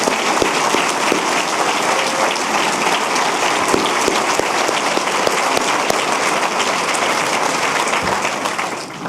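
Sustained applause from the audience at a 2017 State of the City speech, dense and steady for the whole stretch and easing slightly at the end, with no talk over it.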